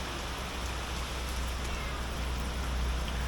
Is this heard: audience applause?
no